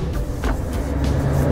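A 2017 Scania S580 V8 truck sets off on the road, giving a steady, loud low engine rumble with some higher whooshing swells over a short stretch.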